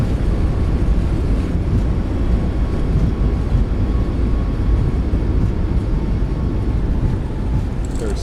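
Boeing 737 MAX 8 thrust reversers deploying on landing in MSFS 2024 video game, a dense continuous roar of engine and rushing air holding steady throughout.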